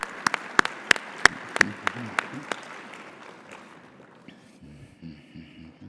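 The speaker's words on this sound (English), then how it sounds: "Please give yourself a round of applause" Audience at an awards ceremony breaks into scattered applause, a handful of sharp, separate claps ringing out over a background murmur before fading away.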